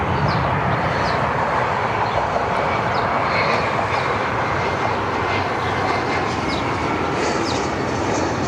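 A Cessna Citation business jet at Cleveland Hopkins airport gives a steady, loud engine roar. It is broadband and sustained throughout, with no talk over it.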